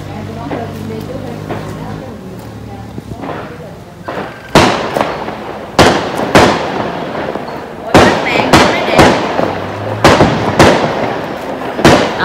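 Firecrackers exploding outdoors on New Year's Eve for the 2021 Lunar New Year, a string of loud, sharp bangs coming in an irregular rapid burst, close by, with people talking underneath.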